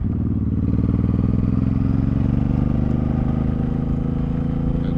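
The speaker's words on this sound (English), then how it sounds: "Again, getting the bike up to speed." A Suzuki M109R cruiser motorcycle gathers speed on a highway, its engine droning loud and steady with a pulsing throb and wind rumble, close and continuous with no speech.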